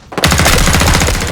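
Loud, rapid automatic rifle fire in a film scene, a continuous burst of closely spaced shots that starts abruptly and keeps going without pause.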